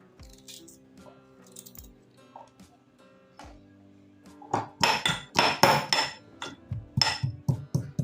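Ginger pieces pounded in a mortar for Kathiyawadi garlic chutney: a few light scattered taps at first, then a rapid run of loud, sharp, close strikes in quick rhythm.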